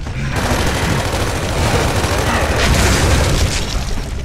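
Dense, continuous rapid gunfire in Gears of War 3 Horde mode rattles and booms loudly throughout, a harsh wash of shots with no pauses.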